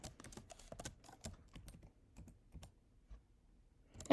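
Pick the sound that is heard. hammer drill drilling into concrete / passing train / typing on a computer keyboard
typing on a computer keyboard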